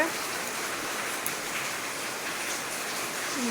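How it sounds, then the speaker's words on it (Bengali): Steady rain pours down around a home, a dense continuous hiss of drops that stays even and unbroken throughout with no voices. "তার মধ্যে বৃষ্টি চলে আসলো"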